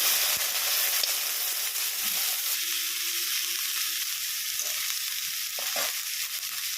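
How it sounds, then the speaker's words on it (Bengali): Hot oil in a heated kadai, tempered with nigella seeds, gives a bright, constant hiss and crackle of frying vegetables, steady and close with a few small knocks, with no one speaking over it. "কড়াই গরম হয়ে গেছে, তেল দিলাম, ফোড়ন দিলাম কালো জিরে। এবার সবজিগুলো সব দিয়ে দেবো।"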